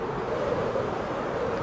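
A soft airy whoosh of a player looping with an Elytra in Minecraft, a steady wind-like rush that swells slightly, brief and with no voices.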